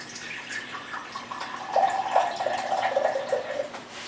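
Warm distilled water running from a tap or container into a measuring cup for bread dough, a close, steady trickle that grows fuller and splashier midway, with no talking.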